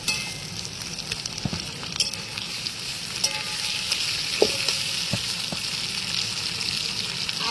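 Green chili and tomato fry in oil in a pan over a wood-fired stove at a picnic, giving a steady broadband sizzle with occasional stirring clicks and scrapes, close and moderately loud, with no talking.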